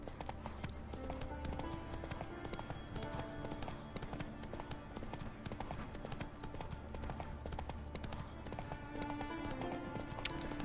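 Hooves of the horse Roach clip-clop steadily in the Witcher 3 video game, a continuous trotting rhythm under a dense layer of game music and ambience, with no voices.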